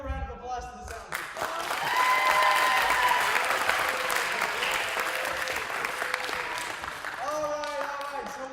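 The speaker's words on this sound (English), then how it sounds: "give a round of applause to the sound team" An audience claps for the sound team at a live show, the applause swelling after a brief spoken opening, peaking, then tapering as a voice resumes talking near the end.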